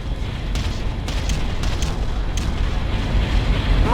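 Artillery barrage in the real-time strategy game Ground Control, a dense, continuous rumble of booming explosions with a few sharper bursts, under a game voice.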